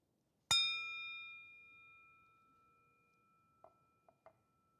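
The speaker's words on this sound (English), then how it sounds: "you're still not convened till I ring this bell" A hand bell is struck once to open a Sunday worship service, giving a bright, clear tone that rings on and slowly fades, followed by a few soft clinks.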